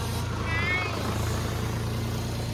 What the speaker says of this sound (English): 1000 RPM is where I like to be for warming up idling.